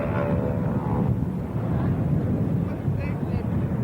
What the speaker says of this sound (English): Taken to the air next are two AT-6 SNJ Texans.